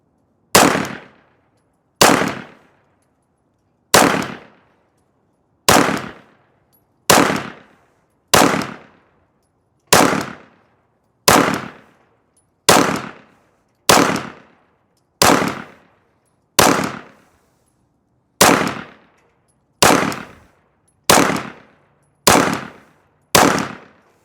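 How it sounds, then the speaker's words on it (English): A Glock 45 pistol fires 147 grain self-defense rounds at an outdoor range, about twenty sharp, loud shots spaced evenly around a second apart, each with a short decaying tail, no voices. "Shot all those 147 grain self-defense rounds."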